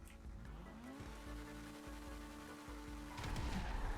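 A car in GTA 5 braking hard during a full-stop brake test, with a steady engine drone and a rising tire squeal. A louder scrape and skid follows near the end.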